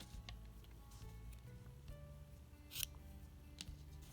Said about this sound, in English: go ahead and cut my yarn here